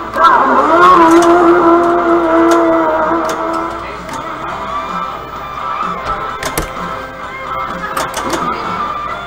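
Full Throttle pinball machine sounding its race-start sequence and racing car effects, loud revving engine tones with sharp clicks and flipper hits, busy arcade hall noise behind.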